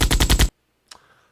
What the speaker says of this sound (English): This is the gunshot sound.